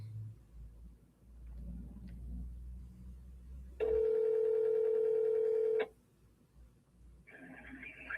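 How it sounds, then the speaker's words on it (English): An outgoing phone call's ringback tone sounds as one loud, steady, purring burst of about two seconds, preceded and followed by quiet room noise with faint fainter tones near the end. "So we're going to give Brian a call."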